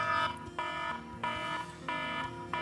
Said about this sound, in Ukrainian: Ну, такий приємний дзвіночок